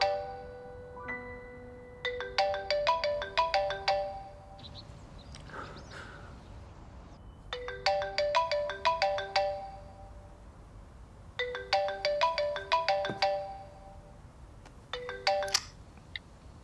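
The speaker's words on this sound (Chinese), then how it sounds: "电话。" A telephone ringtone at home sounds in three separate bursts of rapid, repeating electronic ring tones. Each burst is moderately loud and clear, with brief quiet gaps between them and no talking.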